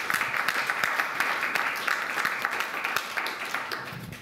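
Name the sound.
audience applause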